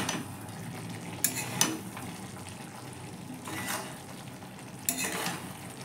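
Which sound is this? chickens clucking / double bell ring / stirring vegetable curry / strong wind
stirring vegetable curry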